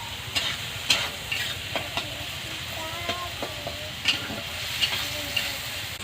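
Onions and tomatoes stir-fry in a pan for a fish kalia, a steady close sizzle under repeated spatula scrapes and light knocks against the metal, with no talking.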